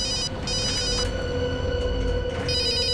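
A telephone rings loudly and close by, its bright electronic bell trilling in repeated bursts with brief gaps between them, and nobody speaks.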